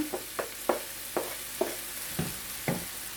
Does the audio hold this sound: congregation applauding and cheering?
no